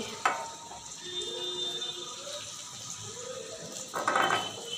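Spices with turmeric and chili powder sizzle steadily in hot oil while being sautéed for parshe fish curry, with a spoon stirring through and a louder burst of frying near the end.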